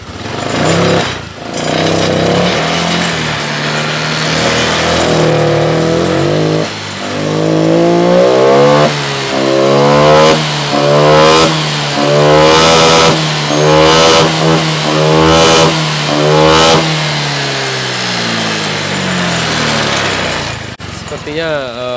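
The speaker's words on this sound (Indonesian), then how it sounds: "untuk di sini saya akan coba tarik gas dulu." A Honda Vario 125 scooter, one with a stalling and sputtering fault, has its throttle blipped repeatedly. The engine note climbs in a series of loud, close revs over a steady idle, with a voice briefly audible.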